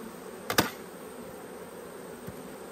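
Honey bees hum softly around an open hive during inspection, a quiet continuous buzz broken by a short sharp knock or clatter near the start and a faint tap later.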